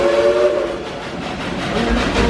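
A Dollywood theme park train rumbles along loudly and close, with a whistle tone sounding briefly near the start over the steady rolling noise.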